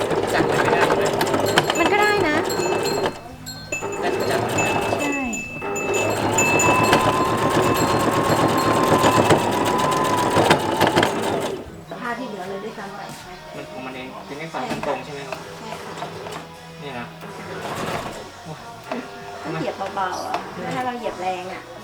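A sewing machine stitches through thick fabric folded into nine layers, giving a steady, fast mechanical whirr for about eleven seconds. After it stops, someone talks over quieter clicks and handling noises.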